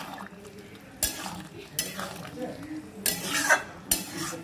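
Poppy seed paste being stirred in a pot of boiling water for a potol posto dish, heard as a series of close scraping and clinking strokes of a spoon against the pot, irregular and separated by quieter gaps, with no talking.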